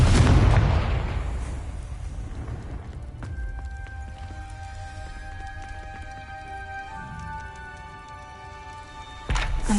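A loud, close Confringo blast erupts in Hogwarts Legacy, a deep explosive boom that fades into a long ringing tail with scattered crackling debris, then a sharp second burst near the end.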